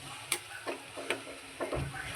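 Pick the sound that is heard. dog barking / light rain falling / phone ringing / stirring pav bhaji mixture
stirring pav bhaji mixture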